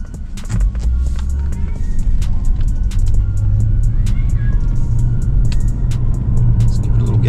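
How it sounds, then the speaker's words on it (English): A Mercedes-Benz S550 4MATIC engine hums steadily with a low rumble and rising drone as the car accelerates, close and continuous throughout. "Let's give it a little gas."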